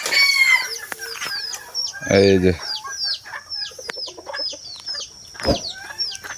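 Hunting fowl, chickens and roosters kept at a hill-area poultry market cluck and call in overlapping bursts, with a loud crow standing out partway through, all close by while someone briefly speaks.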